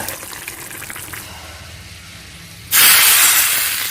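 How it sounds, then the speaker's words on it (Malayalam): A loud steady hiss of steam and bubbling peanut masala curry bursts up suddenly after a quieter stretch of simmering, close by. "നന്നായിട്ട് തിളച്ചിട്ടുണ്ട്"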